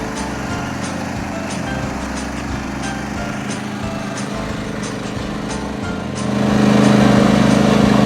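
A new riding lawn mower engine runs steadily outdoors with a loud, buzzing drone, rising and growing louder near the end as it revs or approaches.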